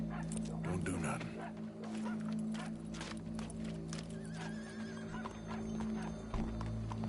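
Hooves clip-clop steadily with a horse whinnying in Red Dead Redemption 2, a dog barking somewhere nearby, all carried over a low rumbling game ambience.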